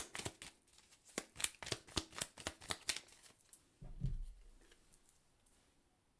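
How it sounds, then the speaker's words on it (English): Tarot cards are riffled and shuffled in a quick run of crisp, papery flicks, followed by a soft thump and a brief slide as a single card is drawn and laid down; no one speaks. "So let's pull a clarifying card"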